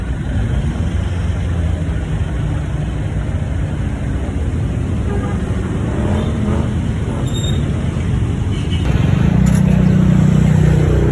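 Road traffic crawling in a long queue near a Jollibee and a square mall, a continuous steady rumble of idling and slowly moving vehicles, fairly loud and unbroken, growing slightly louder near the end.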